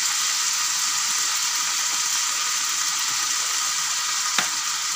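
Chili sauce frying with garlic in a pan over a low flame, a steady dense sizzle holding evenly throughout with one brief sharp tap near the end.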